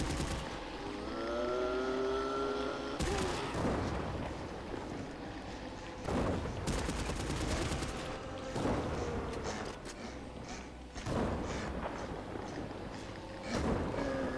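Gunfire rips through a zombie survival mode in GTA Online, with several sharp bursts of rapid shots spaced a few seconds apart over a continuous rumbling background.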